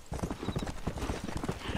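Horse hooves clip-clop in a steady, even rhythm in the Red Dead Redemption video game, a moderately quiet, close trot with no talk over it.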